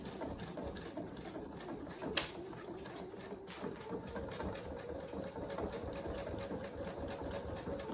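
A sewing machine runs steadily while stitching down the end of an adjustable dog collar, a continuous close mechanical whir with rapid needle ticking and one brief sharp knock partway through.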